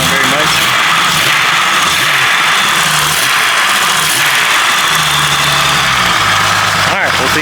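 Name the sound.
4.0 engine running with noisy lifters on Lucas oil additive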